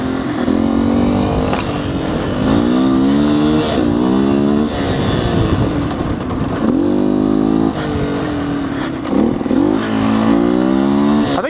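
A 2019 Beta 125 RR S two-stroke dirt bike runs loud and close while being ridden, its engine revving up and down in repeated rising surges as the rider works through the gears, with no talk over it.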